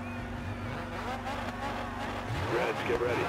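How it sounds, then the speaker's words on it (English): A buggy engine in a Dirt 4 Land Rush race idles and revs in a steady droning whine that rises in pitch toward the end, with a voice talking over it. "Driving these buggy vehicles."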